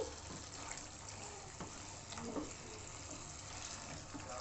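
Water pours into a cooking pan of spice mixture fried in oil, a steady rushing splash that stays fairly even in level and close by, with no voices over it.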